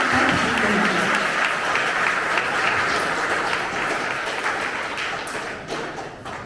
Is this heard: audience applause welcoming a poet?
yes